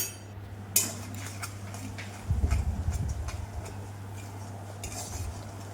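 Turmeric, red chilli powder and salt stir-fried in a pan: a spatula scraping and clinking against the metal in quiet, irregular strokes over a steady low hum, with one busier stretch of stirring midway.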